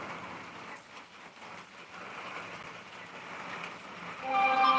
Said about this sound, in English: just listening to it rain right now